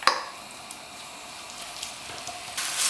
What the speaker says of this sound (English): We need to saute and brown the onions for a few minutes.